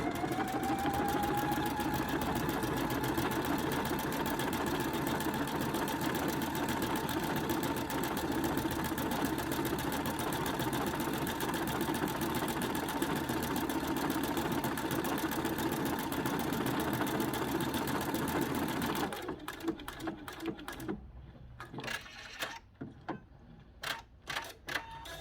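A sewing machine stitches fabric in a close, steady mechanical whir with fast rhythmic ticking for about nineteen seconds. It then stops, leaving a few sparse clicks and handling knocks in near quiet.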